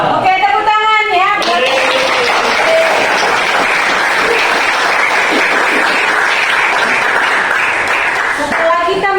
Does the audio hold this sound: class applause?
yes